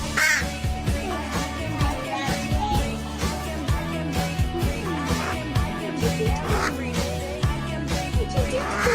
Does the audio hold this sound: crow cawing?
yes